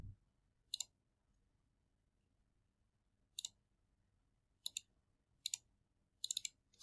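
Computer mouse clicking on a desk, with single and double clicks spaced irregularly, sharp and close, ending in a quick cluster of rapid clicks, against near silence.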